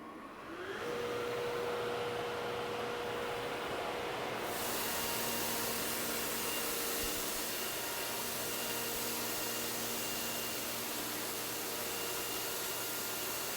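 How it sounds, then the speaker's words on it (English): An A97 shot blaster with its blast motor and vacuum running, starting with a rising whine that settles into a loud, steady roaring hiss, joined by a second motor layer and holding constant to the end. "I'm going to start the blast motor, and then Tom's going to turn on the vacuum,"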